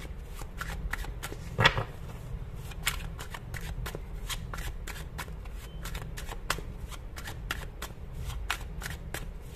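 Tarot cards shuffle in rapid, crisp riffles, a dense run of close papery flicks repeating steadily, with a sharper clatter near the start.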